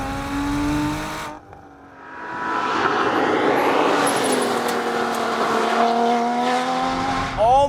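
A Sharkwerks-tuned Porsche Cayman GT4 engine pulls hard after a brief lull, its rising harmonic howl building loud and close, with a quick extra rev near the end.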